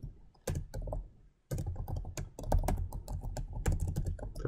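Someone types quickly on a computer keyboard while entering a construction daily log, close and crisp clicking in dense bursts with one short pause, no voices.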